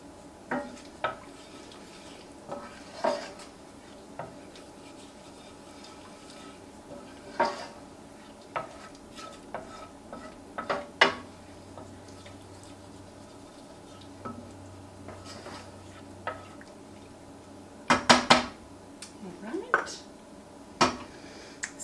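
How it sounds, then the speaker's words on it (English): Grape tomatoes tipped into a pan in a home kitchen, heard as scattered clinks and knocks of cookware and utensils, sharp clattering bursts standing out above quiet background, with occasional talk. "So now all I'm going to do is add my grape tomatoes."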